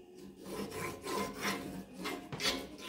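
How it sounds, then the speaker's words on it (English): Butter in a half-solid state is rubbed along the sides of a cast iron skillet, giving soft repeated raspy scraping strokes, close and fairly quiet, with no talk. "rub it along the sides of your skillet"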